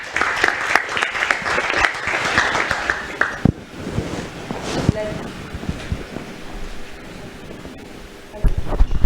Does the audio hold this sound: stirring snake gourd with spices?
no